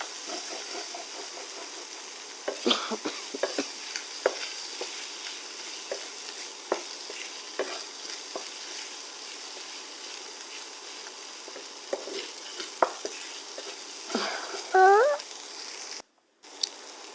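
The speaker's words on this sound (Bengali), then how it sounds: "আরেকটু নাড়াচাড়া করবো একদম ভাজা ভাজা হয়ে যাবে এরকম নাড়াচাড়া করব" A pan of spiced fish fried with coriander powder gives off a soft steady sizzle, with intermittent scraping knocks as it is stirred, close and moderately quiet, with no talk.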